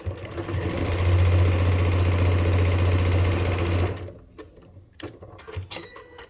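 A sewing machine runs steadily for about four seconds while stitching a bucket hat seam with backstitching, a loud close mechanical whir that stops abruptly, followed by faint handling clatter.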